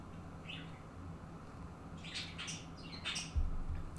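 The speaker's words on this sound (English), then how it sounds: "oh, there's a bird in my window, bird feeder" A small bird at a window feeder gives faint, high chirps and brief squawks in scattered bursts over a low, steady room hum.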